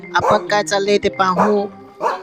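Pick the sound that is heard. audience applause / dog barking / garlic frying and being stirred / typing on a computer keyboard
dog barking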